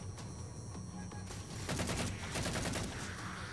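Rapid overlapping gunfire bursts from a combat scene in the video game Halo 4, where a shotgun is in use, loud and dense throughout against constant game noise, with no talking.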